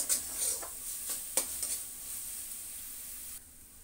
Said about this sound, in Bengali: এবার আবার ভালো করে কষিয়ে নেব, সুন্দর করে কষতে কষতে।